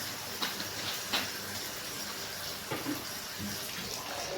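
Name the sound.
running tap water washing meat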